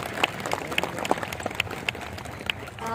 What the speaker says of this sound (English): Please give a big hand of applause for class 3 teachers